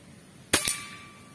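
A Leopard 460cc air rifle fires once, a sharp crack followed a split second later by a metallic clang as the pellet strikes the target, with a brief ringing tail.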